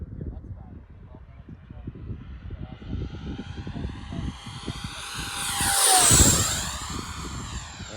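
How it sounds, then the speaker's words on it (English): A Freewing MiG-29 RC jet makes a fast full-throttle pass down the runway, its whine rising and sweeping sharply downward as it roars close by, then easing away while wind and voices murmur underneath. "we're gonna do another fast pass down the runway here"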